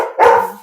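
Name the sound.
dog barking outside at neighbors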